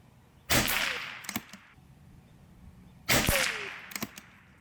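Two shots from a Macavity Arms MA2 sniper PCP air rifle at glued-on, inch-tall plastic figurines, each a sharp, loud crack followed by a few smaller clicks and knocks, with a quiet pause between them and no talking.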